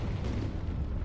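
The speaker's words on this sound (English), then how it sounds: "an explosion in the generator's foundations caused a tunnel collapse, trapping several workers" An explosion in the generator foundations during a Frostpunk cutscene makes a loud, dense, continuous roaring rumble with deep low-end weight that fills the whole short stretch with no break.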